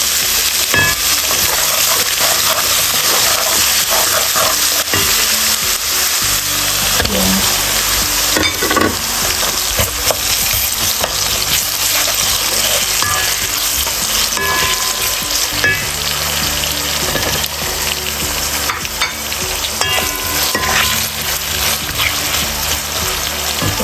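Onions, garlic and ginger frying loudly in a pan for Sylheti beef curry with shatkora, a dense continuous sizzle with scattered stirring clinks and scrapes, close and steady throughout with no talking.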